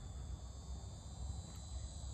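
A cicada's steady high buzz drones faintly and continuously over a low background rumble on a Florida morning.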